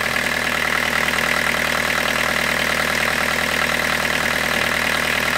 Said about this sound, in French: il y avait un sale bruit là, mais ça ressemble à la butée d'embrayage qui vibre